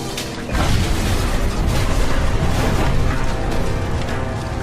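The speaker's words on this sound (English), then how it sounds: "All I heard was this large explosion" A large explosion from a Boeing 747 crash on rugged terrain roars into a sustained, heavy rumble that fills the space and stays loud for several seconds.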